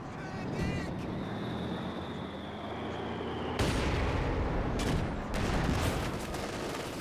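Battle sounds from Company of Heroes 2, with booming mortar and artillery blasts landing over a constant rumble, an abrupt heavy impact midway and more explosive bursts after, loud and crowded with layered war effects.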